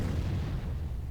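Low, rumbling artillery fire from the Panzer Corps Gold strategy game, a continuous booming roar that stays loud and dense throughout the short clip, with no voice over it.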